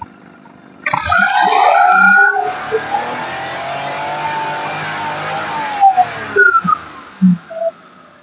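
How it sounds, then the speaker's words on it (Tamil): A 2006 Maruti Alto LXi petrol engine is revved hard after a quiet start, climbing to a loud, sustained roar that holds and then falls back with a few short throttle blips near the end, heard close with no talking. "என்ஜின் ரன்னிங் பாருங்க மக்களே, ரொம்ப ஸ்மூத்தா தான் இருக்கும்."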